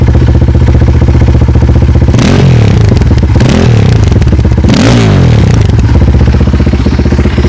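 A loud Spark 300 Motard motorcycle engine runs close by in winter cold, with sharp revving bursts around the middle that rise and fall before settling back to a steady rumble.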